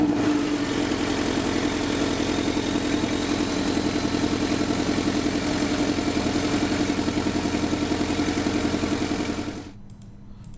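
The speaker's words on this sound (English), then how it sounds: "I want you to hear this engine" The turbocharged flat-four of a 2017 Porsche 718 Boxster S runs at a steady idle, a loud, even, throbbing drone close by with no talk, then cuts off abruptly near the end.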